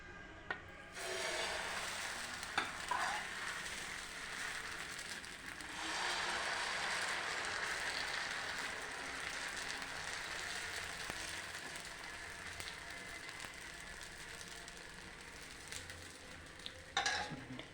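A dosa fries on a pan with a light drizzle of oil, a steady close sizzle with soft scraping and stirring touches, rising after a few seconds and holding evenly before a brief clatter near the end.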